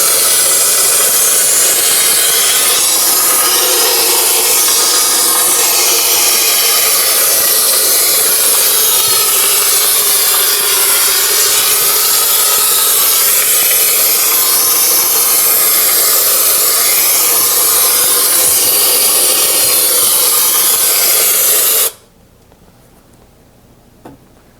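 Cryonite unit spraying to treat insects, a steady loud hiss of jetted spray running continuously for about twenty seconds before cutting off abruptly, with no talking.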